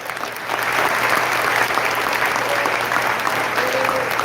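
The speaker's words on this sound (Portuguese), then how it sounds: "Pode aplaudir o Senhor." A church congregation breaks into sustained applause, a dense steady wash of clapping that rises quickly and carries on for several seconds, with some voices mixed in.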